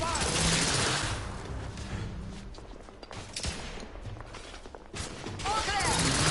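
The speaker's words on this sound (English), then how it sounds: "Igraine, lay down suppressive fire!" Sustained suppressive gunfire fills a tense battle scene in The Order 1886 video game, with continuous rattling shots and booms mixed in with shouting voices.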